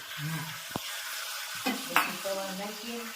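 Tomato goes into a hot pan of spiced potatoes for batata poha, with a steady sizzle under scraping stirs and a couple of sharp utensil knocks against the pan, close by.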